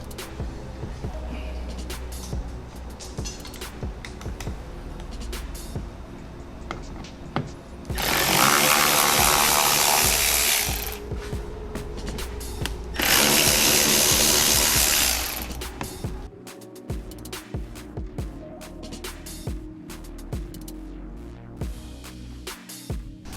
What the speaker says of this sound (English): So we have 10 T15 bolts at the top that need to be removed.